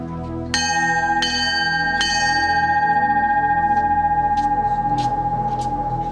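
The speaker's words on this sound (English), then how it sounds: "The bell sounds, and 8 more men ring out of Class 234." A metal bell is struck three times in quick succession, each clang ringing out and lingering in a long sustained tone over background noise.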